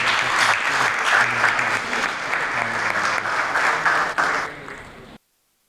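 Audience applause welcoming poet Abbas Tabish at a birthday ceremony in Faletti's Hotel, Lahore: a dense, steady wash of clapping from a large crowd that holds for about five seconds, then thins and stops abruptly.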